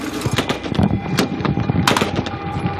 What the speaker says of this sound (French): des échanges de coups de feu